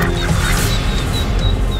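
Ducks quack and honk loudly and continuously during a territorial fight at a lake, a dense, close, harsh squabble with no pauses.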